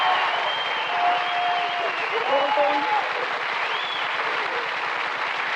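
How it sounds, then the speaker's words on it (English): A TV game show studio audience applauds and cheers in a dense, sustained roar of clapping, with a faint voice or whistle rising over the crowd. "another round of applause."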